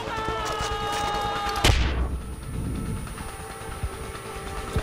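A single loud gunshot or blast in the Far Cry 4 video game, with a sharp onset followed by a decaying rumble, set against steady in-game background music and ambience.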